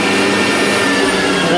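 A Breville BJE430SIL juicer's motor runs continuously, a loud, steady high whine with a constant roar, and talk is heard over it.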